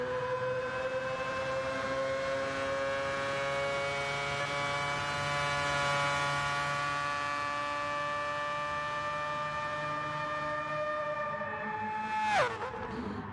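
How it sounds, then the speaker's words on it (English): A Mazda rotary-engined racing car in GT Sport holds a high, buzzing engine note that rises slowly and steadily, with a sharp shift or dip just before the end. The sound is clear and alone, with no voices. "Just listen to the soundtrack of that rotary engine."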